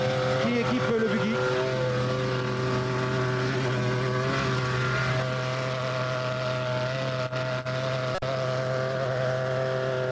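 A Porsche-engined rally buggy in the Paris–Cape Town rally drones steadily and loudly throughout, a sustained engine tone with faint voices beneath it.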